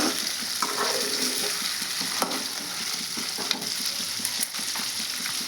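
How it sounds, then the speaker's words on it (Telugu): Small dried fish frying in a pan for a tomato curry, a steady loud sizzle with occasional stirring scrapes, close up and with no talk. "అయితే బాగా ఫ్రై చేసిన అండి చూడండి బాగా ఫ్రై అయినాయి"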